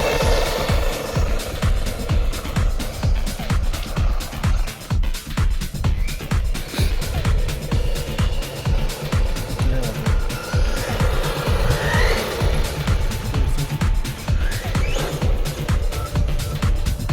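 An XLF X03 1/10 scale 4WD brushless RC car drives at full throttle, a loud, close, continuous motor whine with rapid gritty tire and vibration rattle throughout.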